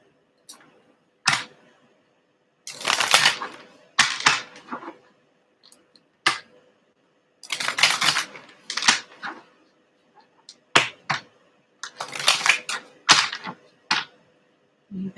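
Tarot cards are handled and pulled from a deck, heard up close as repeated bursts of shuffling, riffling and crisp card snaps separated by short quiet gaps.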